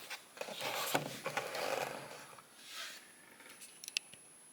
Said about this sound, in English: Now let's cut the figure loose.